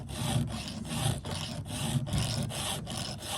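A hand file is drawn across the teeth of a chainsaw chain in steady, evenly spaced rasping strokes, about three per second. The loud, close metal-on-metal scraping runs without pause and with no talk.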